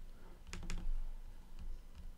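A few quick computer keyboard key presses sound close and crisp, a short burst of clicks followed by two lighter taps, with no talking.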